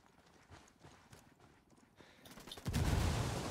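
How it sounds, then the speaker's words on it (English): A mortar blast in a video game lands as a sudden loud explosive boom that follows a stretch of quieter clattering gunfire and keeps roaring to the end. "that's the mortar"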